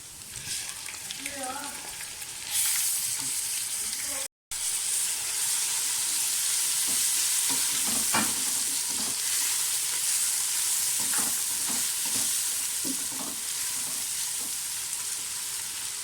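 A steady sizzle of garlic-ginger paste frying in hot oil fills the clip, with occasional scraping and stirring clicks from a utensil; no talking.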